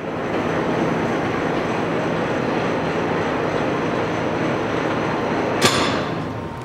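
A Monarch CBB 18 engine lathe, 21 by 96 inches with a flame-hardened bedway and roller-bearing steady rest, runs at 180 RPM with a steady, loud, even whirring drone and one brief sharp click near the end.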